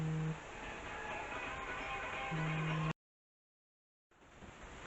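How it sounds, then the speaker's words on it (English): A mobile phone rings with a steady repeating electronic tone over a noisy indoor background, cutting off abruptly into silence before quieter ambient sound returns. "That weird noise you just heard was my phone ringing."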